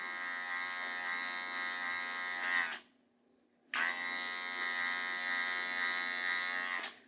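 An electric hair clipper buzzes close and loud while trimming a client's beard, running steadily, cutting out for about a second, then starting again and running on.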